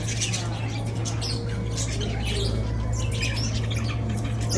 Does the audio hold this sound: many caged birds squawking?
yes